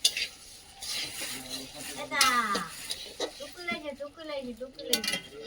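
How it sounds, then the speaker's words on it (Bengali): Fried lentils are poured from a pan into a bowl in a home kitchen, giving a close, scraping, rattling clatter of metal and grains, with a person talking over it. "ডালটা ভেজে নিয়েছি এবার গামলিতে ঢেলে নেবো"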